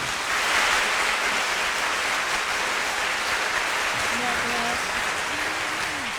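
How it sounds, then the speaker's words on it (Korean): An audience at a Bach-themed summer music school concert claps for a performer, a steady moderately distant wash of applause with a voice briefly heard speaking near the end. "선생님 큰 박수 보내주시죠."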